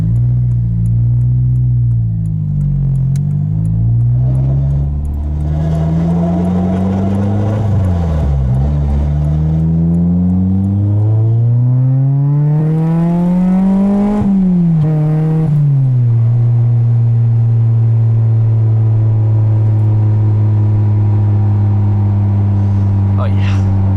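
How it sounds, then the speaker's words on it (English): A K24-swapped 2009 Honda Civic Si with a loud aftermarket exhaust revs repeatedly, its pitch rising and falling through several pulls before settling into a steady idle-like drone, with someone talking over it now and then. "Honestly, I think this is one of the better sounding exhausts"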